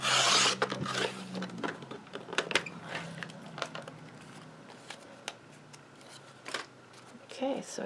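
Paper being trimmed for a Stampin' Up card, with soft scraping, rubbing and cutting sounds in short irregular bursts at close range, plus a faint voice in places.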